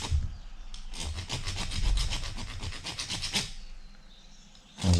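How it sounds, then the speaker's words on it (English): A hand file rasps a burr off freshly cut metal pipe thread held in a vise, a close run of quick, rhythmic scraping strokes for a few seconds before tapering off. "I can generally just file that burr out"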